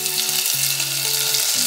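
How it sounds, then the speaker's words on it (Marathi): Chopped green chillies and cumin seeds fry in hot oil, a steady close sizzle that runs evenly throughout, with a faint tonal hum of a nearby appliance underneath. "जिरं फुललं की लगेच आपण त्याच्यामध्ये बारीक चिरलेली हिरवी मिरची घालणार आहोत."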